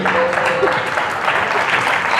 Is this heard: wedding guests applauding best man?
yes